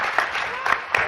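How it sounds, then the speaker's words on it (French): Audience applause at a conference panel, a short burst of clapping from the room, moderately loud and close, lasting about a second. "les applaudir, n'est-ce pas?"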